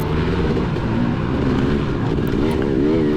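Honda 250RX four-stroke dirt bike racing in a snowy Glacier Run cross-country event, its engine droning loud and steady with rising and falling revs, other bikes mixed into the continuous roar.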